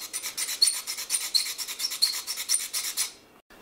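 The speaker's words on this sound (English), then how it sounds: "Looks like I might need to sand some space off the PCB here." A garage door opener's printed circuit board is being sanded by hand, with steady rapid back-and-forth rasping strokes that are close and loud for about three seconds before stopping.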